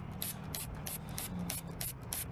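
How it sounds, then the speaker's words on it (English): Degreaser being sprayed onto a car engine in short repeated bursts, about eight quick hissing sprays in a steady rhythm, close and fairly quiet. "So I'm gonna actually spray it down before we wash it again"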